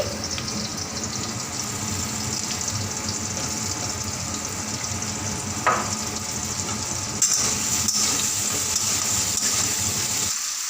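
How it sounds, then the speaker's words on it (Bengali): Steady oily sizzling of salted potatoes frying in mustard oil in a pan, continuous and close, with a few faint clinks and stirring noises partway through. "এইটা হতে থাক, এটা ভাজা হতে থাক।"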